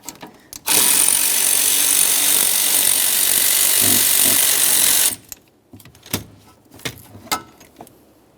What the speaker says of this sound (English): Switch to my electric ratchet.